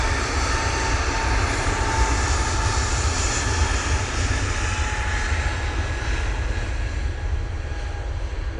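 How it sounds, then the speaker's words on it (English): EasyJet airliner jet engines roaring steadily at Manchester Airport, a loud, continuous broadband rumble with a faint high whine, constant throughout with no talk. "Right, we'll get this EasyJet now."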